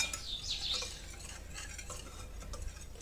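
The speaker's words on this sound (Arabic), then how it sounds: "نخلط هاد النواشف مع هاد الزبده" Dry ingredients being stirred into melted animal butter in a bowl, a quiet continuous scraping and mixing with soft clinks, close and low in level.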